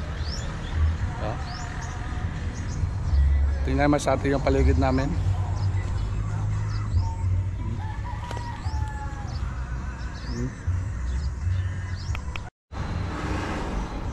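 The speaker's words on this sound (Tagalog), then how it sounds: "May mga ibon masyado, tunog mga ibon, no?" Several bird calls chirp and cluck around a person talking outdoors, with a rooster-like crowing burst partway through and steady low rumble underneath.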